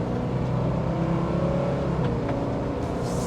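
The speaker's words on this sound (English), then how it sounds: "It's a very distinctive exhaust note that Subarus have." Flat-four engine of a 2022 Subaru Forester Wilderness burbling steadily with a deep, uneven exhaust rumble, close and continuous throughout with a slight rise in revs near the end.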